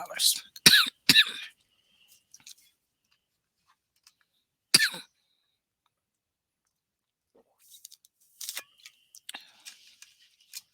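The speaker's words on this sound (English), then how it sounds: "I promise this cough is not in regard to this content." A few short, sharp coughs near the start, then another single cough after a quiet pause, followed by faint scattered clicks and rustling.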